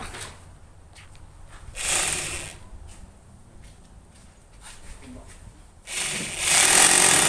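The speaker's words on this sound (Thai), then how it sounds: "เจาะเสา" A power drill bores into a house pillar during home construction work, with two loud bursts of drilling standing out over steady lower background noise and a quieter stretch between them.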